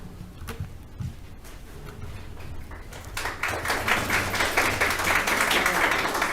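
Audience at a planning commission hearing breaks into applause, faint scattered clapping at first that swells into a fuller, steady round of clapping through the second half.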